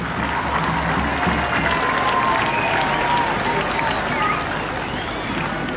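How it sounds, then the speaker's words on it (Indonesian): A crowd claps loudly at an Indonesian Independence Day ceremony, honoring the students of SMA Negeri 3 Tarutung, with a brisk, continuous wash of applause and some voices and music underneath. "kita mohon tepuk tangan yang meriah sekali buat SMA Negeri 3 Tarutung"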